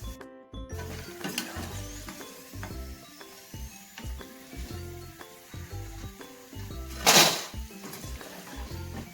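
Elephant foot yam chips fry in hot oil in a wide pan, giving a continuous low sizzle with soft stirring knocks throughout and one louder scrape or clink of a utensil near the end.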